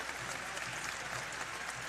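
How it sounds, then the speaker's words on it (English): Home crowd of Wichita State Shocker fans applauding at a women's volleyball match against SMU, a brief, steady wash of distant clapping filling the arena. "Nice round of applause from the Shocker faithful"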